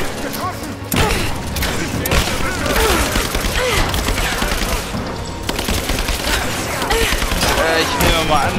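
Gunfire in the video game Rise of the Tomb Raider: dense, rapid bursts of shots and booms rattling almost continuously and loudly, with someone speaking German over the action.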